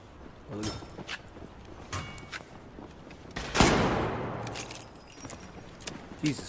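Scattered gunfire in the shooter game Battlefield 4: a few sharp shots and one loud crack with a trailing echo midway, mixed with clinking and footstep-like sounds under a talking voice.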